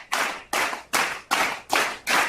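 Five short bursts of crowd clapping, each swelling and fading in a steady rhythm, loud and close, with no talking over them.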